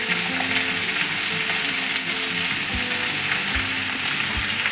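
Marathi-style tomato bhaji frying in a pan, a steady close sizzle with a few soft low knocks from stirring, no voices.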